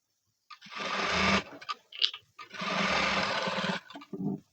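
A sewing machine stitches a blouse lining in two long, steady runs of close, loud whirring, separated by brief pauses, clicks and a short final burst.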